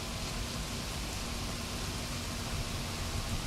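Steady, faint rain hisses evenly throughout, without pause, in a farming video game on the Gnadenthal map.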